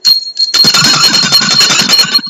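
A bell rings loud and close in a rapid continuous jangle, starting with a short burst, then a brief pause, then ringing steadily for about two seconds.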